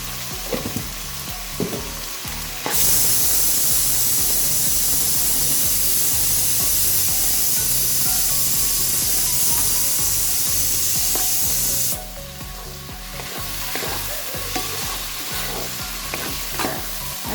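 Chicken mince with tomatoes and salt sizzles as it is sautéed in a pan, a steady loud frying hiss with occasional stirring scrapes, surging louder for several seconds before easing back.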